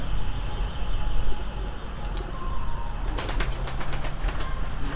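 Ankara pigeons coo softly over steady outdoor wind noise, followed by a burst of rapid wing flapping near the end, with faint voices in the background.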